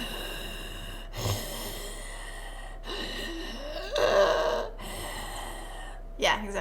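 A voice imitates Nosferatu's heavy breathing with several drawn-out, raspy gasps and snorts separated by short pauses, close and loud.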